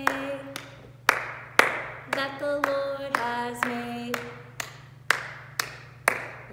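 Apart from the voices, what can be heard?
children clapping along to worship song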